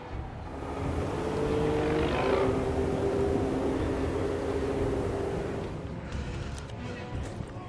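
A display aircraft at the Shoreham Air Show, the plane that crashed pulling out of a loop on August 23, 2015, drones loudly with a rising and falling engine tone, then fades into quieter outdoor noise.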